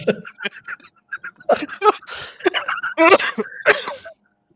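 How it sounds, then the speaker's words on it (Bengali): Someone coughs repeatedly in choppy bursts after laughing, breathless and close, mixed with bits of laughter and strained vocal sounds. "হাসতে, হাসতে কাশি উঠে গেছে"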